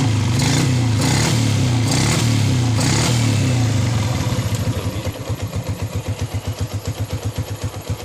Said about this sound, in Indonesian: Kalau dari segi suara mesin, saya rasa untuk motor Jupiter itu dari suara masih dibilang normal